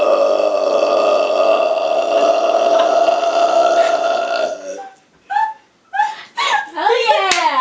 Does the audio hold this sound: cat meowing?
no